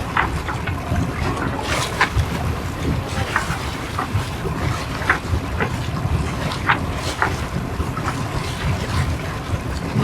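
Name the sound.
boat motoring on autopilot on Lake Vättern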